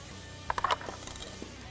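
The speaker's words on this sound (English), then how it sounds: "Use a flathead screwdriver to pry off this piece of trim on the bottom of the mirror." Flathead screwdriver prying a plastic trim piece off the bottom of a 2009–2014 Ford F-150 side mirror: a quick cluster of four or five sharp clicks and snaps, close and fairly quiet, with faint scattered ticks after.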